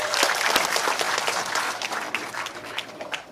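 Crowd at a Labour Day rally claps steadily, a bright continuous patter of many hands lasting a few seconds with some individual sharp claps near the front.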